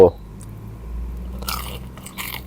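Crispy bitter melon is chewed close to the mic, giving a couple of sharp crunches among quieter mouth sounds.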